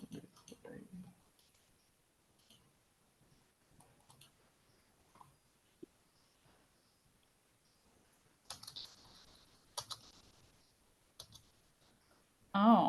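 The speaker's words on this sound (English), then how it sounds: "can you just type Porter out?" Soft, sparse clicking of computer keyboard keys in a quiet room during a developer meeting, with faint intermittent voices and scattered bursts of sound.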